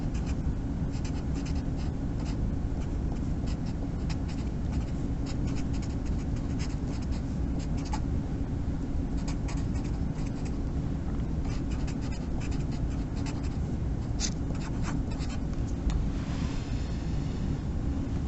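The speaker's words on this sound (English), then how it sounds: "I guess I should write that down" A pen or pencil scratches steadily across paper while a calculation is written down, close and continuous over a low background hum, with a few brief taps and pauses.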